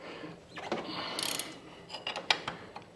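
A ratchet wrench clicks in short quick bursts as it tightens the lower ball joint on a Honda TRX400FA Rancher ATV. The close, fairly quiet metallic ratcheting comes in several separate strokes.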